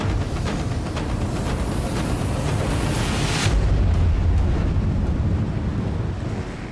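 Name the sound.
engine of a huge cargo ship approaching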